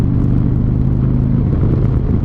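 A Harley motorcycle rumbles loud and steady from close by while being ridden, its low engine note holding through a downshift with no pause.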